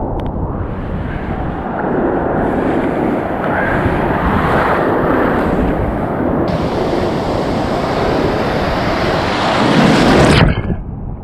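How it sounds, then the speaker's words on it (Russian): Sea waves at Anapa wash and crash on the shore in a continuous loud rush, mixed with heavy wind buffeting against the microphone, swelling near the end. "И еще одна волна."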